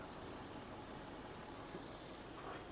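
A 2013 Toyota Fortuner engine idles steadily with a dense, even rumble and no breaks, heard up close.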